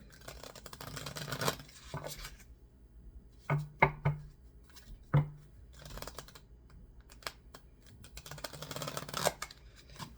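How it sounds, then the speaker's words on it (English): Quiet riffling of a small card deck in short bursts, with soft taps and clicks between the shuffles. "I love this deck, but it's a mini and it's hard to shuffle."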